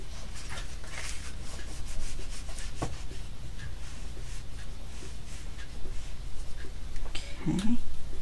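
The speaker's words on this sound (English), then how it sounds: "You rub on either side so the tape sticks." Tape being rubbed down onto a file folder, a soft continuous scuffing and rubbing under a low steady room hum, fairly faint and close, with a brief low vocal sound near the end.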